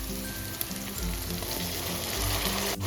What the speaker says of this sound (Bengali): এই পর্যায়ে আমি দিয়ে দেব বেটে রাখা মশলা